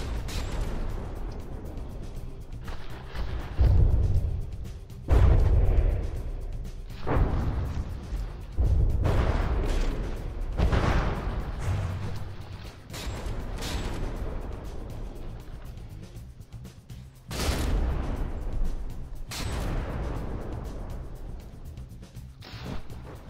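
Artillery shells fire in a From the Depths naval battle during a tournament match, with repeated heavy booms and crashes, some loud and near, others duller, over a steady low rumble.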